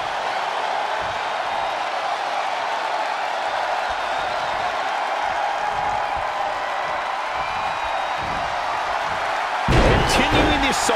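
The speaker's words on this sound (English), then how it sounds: "What a raucous crowd here tonight." Virtual arena crowd in the WWE 2K20 wrestling video game, a steady dense roar of many voices running throughout, capped by a sharp heavier burst near the end.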